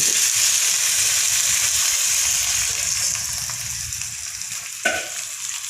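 Mixed vegetables frying in a pan for a vegetable masala give off a steady, loud sizzle with stirring, ending in a short scrape near the end, with no voices.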